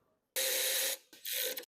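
Two quick bursts of ratcheting as a bolt is driven to refit a part onto the engine of a Craftsman push mower. The close, buzzy metallic clicking is heard alone with a short pause between bursts.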